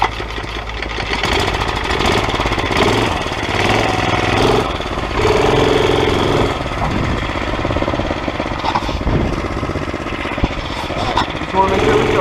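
A small mini bike engine, running without a breather and drawing cold air into the carburetor, chugs and putters loudly throughout a test ride, its rough, knocking idle-like drone steady for the whole stretch with slight revving swells.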